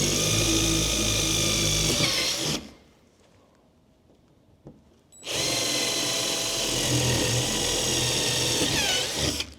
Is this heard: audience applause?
no